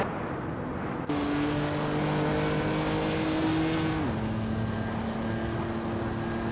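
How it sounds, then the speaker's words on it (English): A 1968 Porsche 912 RR race car engine in a racing video game drones steadily at high revs, then its pitch drops sharply partway through before holding a new steady tone. "Budatsuru is driving a 1968 Porsche 912 RR"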